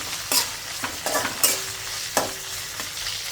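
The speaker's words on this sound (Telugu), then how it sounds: "6 వెల్లుల్లి రెమ్మలు మీడియం ఫ్లేమ్లో ఇలా కలుపుకుంటూ 1 నిమిషం ఫ్రై చేసుకోవాలి" Green chilies, six garlic cloves and cumin frying over a medium flame, a constant sizzle broken by several sharp spatula clacks and scrapes as they are stirred, with no one talking.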